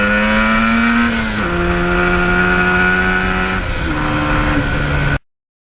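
A 1977 Yamaha RD400 two-stroke motorcycle on the stock exhaust rides steadily at close range, its buzzing engine note holding level, dropping with each of two gear changes, then cutting off abruptly near the end.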